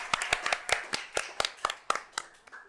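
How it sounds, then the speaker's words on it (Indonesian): A small audience claps for Ibu Marika, a school counselor, at a talk on teen mental health: a sparse, uneven run of about a dozen distinct hand claps close by. "berikan tepuk tangan dulu yang meriah buat Ibu Marika"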